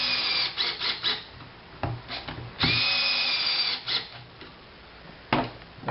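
A cordless power drill drives screws into a ski race binding's toe piece in several short bursts, whirring up and stopping between screws, close and fairly loud.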